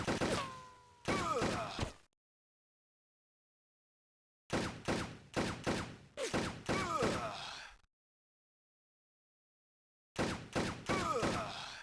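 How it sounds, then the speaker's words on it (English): Bursts of rapid gunfire with short grunts from the Game Boy Advance game Army Men Advance, loud clustered volleys separated by complete silences, no talk. "every time a bullet strikes you or an enemy, not when they die, but every shot that hits, mind, they'll let out this really over-the-top grunt"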